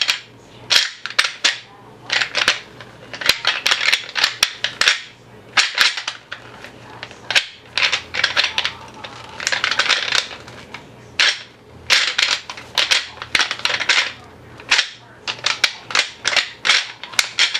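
Rattle bag scraped and shaken against a tree to imitate fighting deer during hunting, giving a steady run of dry, clattering clicks and scrapes in quick irregular bursts, close and fairly loud with no talking.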